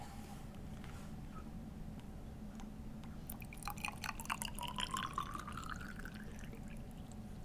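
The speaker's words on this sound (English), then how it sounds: "So you're going to fill the red test tube up with hot water." Hot water runs into a red test tube over a low background hum, its pitch rising as the tube fills, with faint drips before.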